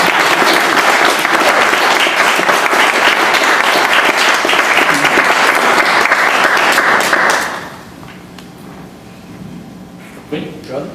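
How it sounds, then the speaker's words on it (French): An audience gives dense, loud applause at the end of a talk. It holds steady for about seven seconds, then breaks off abruptly into quiet room noise with a few scattered sounds. "Déjà, on l'applaudit."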